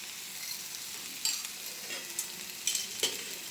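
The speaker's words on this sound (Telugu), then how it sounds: "వెజిటబుల్స్ అన్నీ ఇట్లా మంచిగా దోశ పైన వేసుకున్న తర్వాత ఆయిల్ అయితే వేసేసుకుందాము" Oil sizzles on a moong sprout dosa (pesarattu) topped with vegetables on a hot pan, a steady close crackle with a few sharper spatters and scrapes, no voices.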